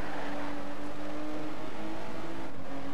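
A car engine drones steadily while driving in a racing video game, a loud, constant hum with a sustained tone and no clear shifts.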